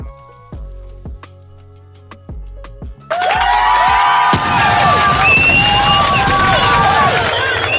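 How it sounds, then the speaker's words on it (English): Crowd cheering and clapping swell at a staged ceremonial performance, starting after a few seconds of lower sounds and growing loud and excited, with shouts and whoops rising over the noise. "Let's give them a round of applause."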